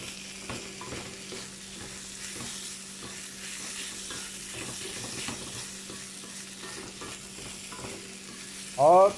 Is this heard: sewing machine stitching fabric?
no